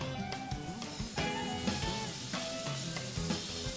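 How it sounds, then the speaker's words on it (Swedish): A knob of butter sizzles in a frying pan, a steady close crackle and hiss with occasional clinks of stirring, no voices. "En klick smör i pannan."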